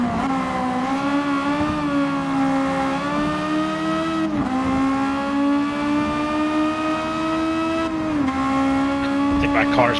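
Race car engine in a Tokyo driving game special event, a steady high drone with harmonic pitch shifts as gears change around 4 and 8 seconds, loud and continuous, with faint tire noise near the end.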